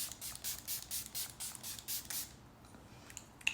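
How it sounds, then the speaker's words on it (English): Quick pump spritzes of a double-layer serum face mist spray, about eight soft rhythmic hisses close by in a quiet room, then a pause and a faint final spritz. "I'm gonna spritz everything together with the Dalba spray."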